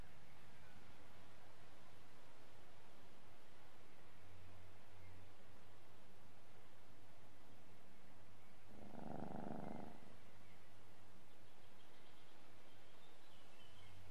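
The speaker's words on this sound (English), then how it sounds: "Now turn around and look down and interact with the cat." Cat purring in the video game Behind the Frame, a soft, continuous purr under faint background noise, with a louder rustling burst partway through and no speech.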